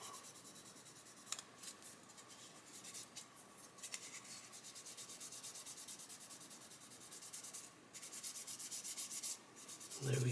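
Close-up sanding of a raised ejector pin mark on a plastic model kit chassis, steady fine gritty scratching strokes in a continuous run with brief pauses, quiet and alone.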